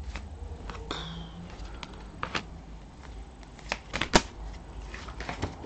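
Tarot cards are handled and laid out on a table during a reading, with soft irregular shuffling, sliding and light tapping sounds close by and no talk.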